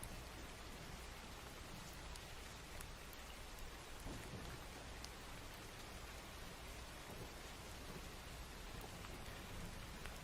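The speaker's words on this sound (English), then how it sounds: "We hear some rain. We hear some thunder." Steady rain falls during a thunderstorm, a dense continuous hiss of drops on surfaces with soft distant thunder rumbling beneath it, quiet and unbroken with no voices.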